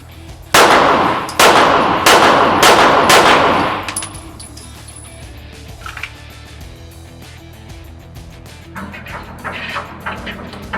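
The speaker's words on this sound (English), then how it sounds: "I'm going to shoot my 5 shots, my buddy might shoot his 5 shots" Five pistol shots fired at an indoor shooting range crack loudly in quick succession, each with a reverberant ring, followed by quieter range noise and faint distant shots.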